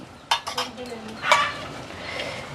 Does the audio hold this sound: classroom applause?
no